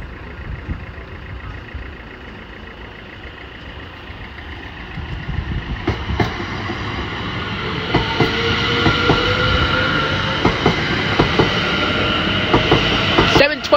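Greater Anglia electric train 720121, coupled with 584, pulls out of Cheshunt station for Cambridge North. A close, loud rumble builds with a rising motor whine and rhythmic wheel clicks over the joints.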